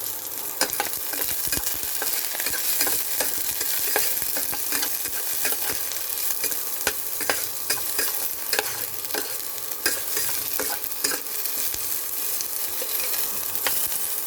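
Onion and tomato sauté in a hot pan for a tuna noodle soup, with a constant close sizzle broken by frequent scraping stirs of a spatula.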